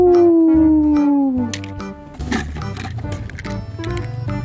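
A single loud, drawn-out wolf howl sliding gradually downward in pitch, then cut off by busy clattering and rumbling sounds.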